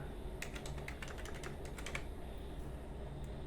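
Typing a new password on a computer keyboard while setting up a TP-Link TL-MR100 4G router, a quick burst of close keystrokes over a steady background hum, then the keys stop.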